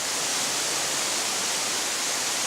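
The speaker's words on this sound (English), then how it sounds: "this wispy narrow plunge actually consists of both upper and lower falls" Shiraito Falls, a narrow upper and lower plunge waterfall in deep forest in Aomori, Japan, gives a steady, dense rush of falling water, loud and unbroken throughout.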